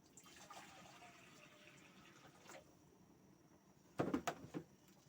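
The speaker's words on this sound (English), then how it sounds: "We add water." Water poured into a cooking pot on a gas stove in a kitchen, a faint trickle at first, then a short louder splashing burst near the end.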